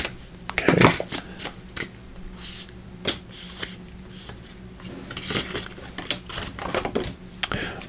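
Slightly slippery tarot cards being shuffled by hand in a continuous run of riffling, flicking and soft slapping, close and fairly loud, with no voices over it.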